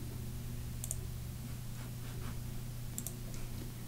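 Two faint mouse clicks on an OK button in computer software, spaced about two seconds apart over a steady low electrical hum.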